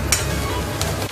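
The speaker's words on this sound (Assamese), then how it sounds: "এতিয়া আমি বিৰিয়ানী মচলা তাত দি দিছোঁ, আৰু বিৰিয়ানী মচলাখিনি দি পেলাই আৰু 2-3 মিনিটমান ভাজিব লাগিব।" Onions fry with biryani masala in a pan, giving a steady, close sizzle with a faint scrape of stirring throughout the short moment.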